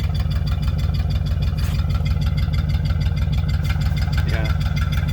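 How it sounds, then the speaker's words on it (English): Flathead Ford engine idling while missing on one cylinder, a loud, close, lumpy rumble with an uneven pulsing rhythm that holds steady throughout. "It's missing on one cylinder."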